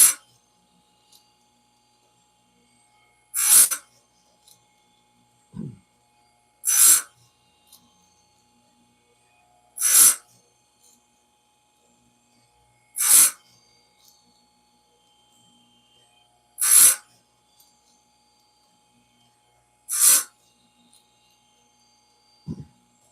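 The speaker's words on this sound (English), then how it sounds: "I don't sit there and grind on that tooth a long time" A hand file strokes across chainsaw chain teeth in short, evenly spaced rasps, about six distinct strokes separated by quiet pauses, close by and crisp.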